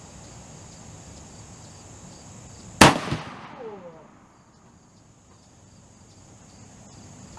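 A CVA Optima .50 caliber muzzleloader fires a single 70 grain charge outdoors, one sharp loud blast with a short rolling echo trailing off over steady insect chirping.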